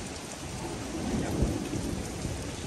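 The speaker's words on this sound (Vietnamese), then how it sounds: "Chiều nào là cũng mưa như thế này nha các bạn" Afternoon rain falls steadily with a dull rumble of thunder rolling through the middle, a dense hiss of drops hitting surfaces close by, with no voices.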